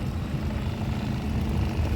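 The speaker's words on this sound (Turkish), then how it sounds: "Deniz uçağı tepemden geçiyor." A propeller seaplane drones overhead above the sea, a steady low rumble holding at even loudness for a couple of seconds.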